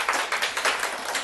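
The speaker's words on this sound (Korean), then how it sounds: "박수 한번 쳐줘요." A lecture hall audience applauding on request, a brief burst of dense, overlapping hand claps at moderate loudness.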